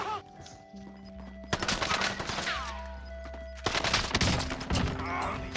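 Video game gunfire rattles in short bursts, with an opening quiet stretch, then two loud volleys of rapid shots mixed with in-game effects.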